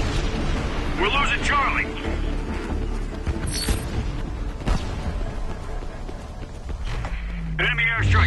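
Enemy airstrike explosions rumble in a Homefront multiplayer match, a dense, continuous low booming bed with scattered bursts and a rising whistle near the end, while a voice speaks over the battle.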